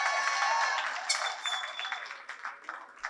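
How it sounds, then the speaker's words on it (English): Round of applause from the audience at a Grenadian political town hall meeting in New York City, a brief burst of clapping that fades into scattered individual claps over a few seconds. "I'll give him a round of applause."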